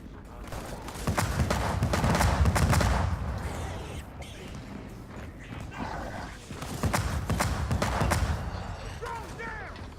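Rapid gunfire in a horde video game pours onto a shielded enemy in two long sustained bursts separated by a brief lull, loud and dense, with a voice talking over it.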